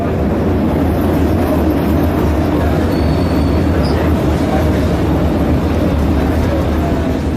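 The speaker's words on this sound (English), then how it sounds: "we went on a tram ride around Pyongyang" Tram riding through Pyongyang, North Korea, with a steady loud low rumble and rattle of the carriage rolling on rails throughout, carrying on without pause.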